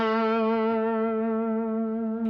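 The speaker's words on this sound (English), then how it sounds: "you can rake into the bend" Electric guitar with effects and light distortion rakes into a sustained string bend on a blues tune, one held note ringing steadily and loud with rich overtones, a faint pick noise near the end.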